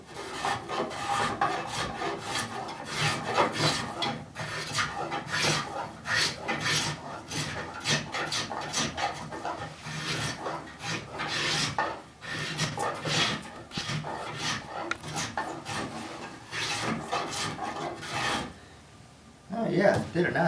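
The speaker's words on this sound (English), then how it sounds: "the spoke shave, it's getting in there" Spokeshave shaping the inside of a wooden chair arm rail, producing continuous rhythmic rasping strokes close up, with someone talking occasionally over the work.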